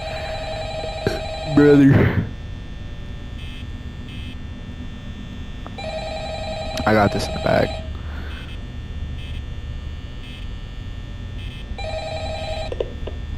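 A telephone rings in the Five Nights at Freddy's video game, with a steady tone pattern that repeats several times over a humming background, while someone talks over it.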